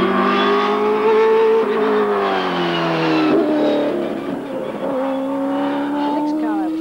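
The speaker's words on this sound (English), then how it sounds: "I had the opportunity of driving the winning car at Indianapolis at the Mid-Ohio racetrack" Penske race car that won at Indianapolis, driven at the Mid-Ohio racetrack, roars loudly and steadily with engine pitch rising and falling through gear changes, close and continuous with no talk.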